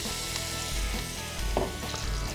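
Butter and olive oil sizzle steadily in a pan on the stove, a continuous close frying hiss with a brief louder crackle midway, no voices.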